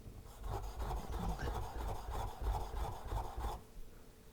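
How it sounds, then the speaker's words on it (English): Steel chisel being sharpened on a flat diamond stone, a close, quiet run of quick gritty back-and-forth rubbing strokes that stops abruptly near the end. "give it a little bit of a go on the diamond stone"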